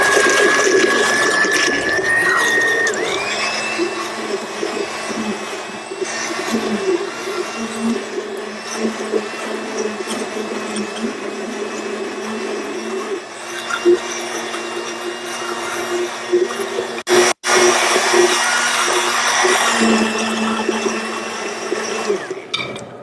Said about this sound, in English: we're going to go ahead with our immersion blender and just whip this up a little